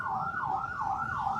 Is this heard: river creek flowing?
no